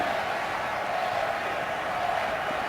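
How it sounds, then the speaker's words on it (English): A stadium crowd at a Broncos versus Raiders game chants for coach Gary Kubiak, a distant, steady wall of massed voices that holds evenly throughout. "They're chanting Gary here."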